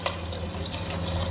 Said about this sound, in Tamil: இப்போ பாலை ஊற்ற போகிறோம்.